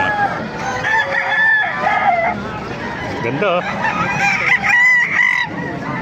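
Several McClain Hatch gamecocks crow and cluck nearby at a market in Baliuag, overlapping one another, while people chatter in the background.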